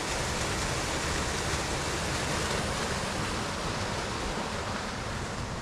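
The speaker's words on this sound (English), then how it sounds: "There's your waterfall." A waterfall in the Boundary Waters wilderness pours in a steady, dense broadband roar, loud and continuous throughout with no voices.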